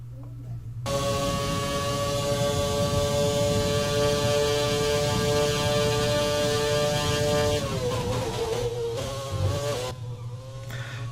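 A 2010 McLaren Formula 1 car in the F1 2020 video game, its high-revving engine whining steadily at a sustained pitch for several seconds, then shifting and fluctuating as it changes gear, loud and continuous with no talk.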